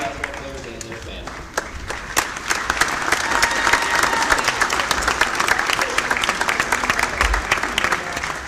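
Crowd in a school gym applauds senior basketball players and their families at a high school senior night, dense steady clapping swelling and holding loud throughout, with some cheering.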